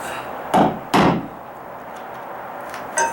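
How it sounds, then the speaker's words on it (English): A hammer tapping a shim into place under a deck paver: two sharp, loud knocks close together followed by lighter taps, close by in a quiet outdoor setting. "I can take my hammer"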